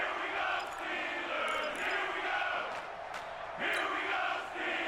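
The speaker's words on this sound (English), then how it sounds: "the crowd getting into it as we come up on a big 3rd down" Football stadium crowd roaring steadily ahead of a big third down, a dense, loud wall of cheering with swells and a few sharp whistles standing out above it.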